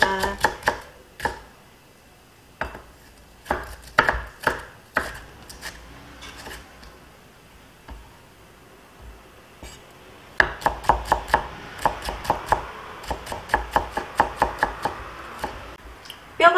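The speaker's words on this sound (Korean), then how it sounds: "그 다음에 또 채 썰고 모아서 다집니다." Knife chopping fibrous celery on a cutting board, close and crisp, with a few separate cuts early on, then a quick, steady run of rapid chops toward the end.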